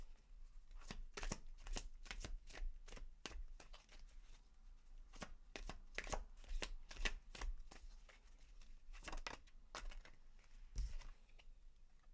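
Tarot cards shuffled by hand in close, crisp riffling bursts, a steady run of quick papery slaps and flutters repeating over about twelve seconds with no talking.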